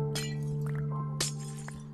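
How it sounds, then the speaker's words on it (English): A glowstone block breaks in Minecraft with sharp glassy shattering and clinking, two distinct bursts close up over a steady background hum. "the sound glass makes in glowstone dust and glowstone is really weird"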